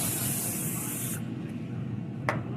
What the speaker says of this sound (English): Take our olive oil. We're going to spray that.